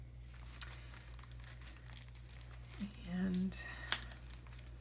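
Vintage papers and ledger sheets crinkle and rustle as they are handled for a garden journal, soft scattered crackles close by, with a brief spoken word and a low electrical hum underneath.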